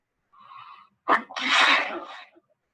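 A single sharp sneeze bursts out after a short wheezy intake of breath, close and fairly loud.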